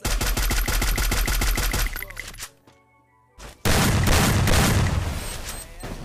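Gunfire in the Free Fire mobile shooter, a rapid run of loud repeated shots, a brief quiet lull, then another dense burst of firing close by.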